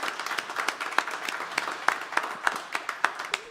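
An audience at a live radio show applauding a country singer: a modest crowd's clapping, rhythmic and fairly close, with distinct individual claps rather than a roar.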